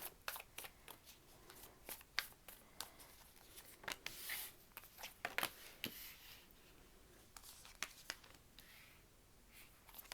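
Oracle cards are shuffled by hand in a quiet room, a rapid series of soft riffling flicks and slaps that come in bursts, close and faint.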